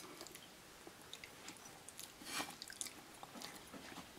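Soft, wet lip smacking and chewing from someone eating at close range, including tomato, with repeated moist clicks and squelches over a faint, steady hiss.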